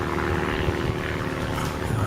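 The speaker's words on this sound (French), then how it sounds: "il y a un avion justement qui fait du bruit" A propeller airplane passes over a residential street, its steady loud drone filling the whole stretch without pause.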